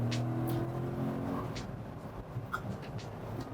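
C6 Corvette sports car engine droning steadily while driving, heard from inside the cabin, a low continuous hum that climbs slightly in revs with road noise, no talk.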